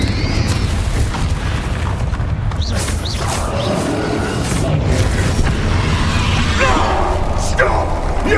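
A Confringo blasting spell in Hogwarts Legacy, booming explosions and crackling bursts amid combat noise, loud and dense with overlapping impacts.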